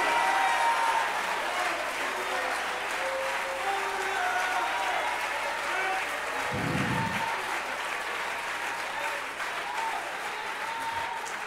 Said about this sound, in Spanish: Clap your hands, O ye people.